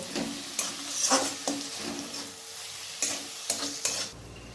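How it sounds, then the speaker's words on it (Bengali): Mutton keema with chopped tomato is stirred in a hot pan, with a soft continuous sizzle broken by several sharp spatula scrapes and knocks against the metal. "এরপর ভালোভাবে নাড়াচাড়া করে নেব।"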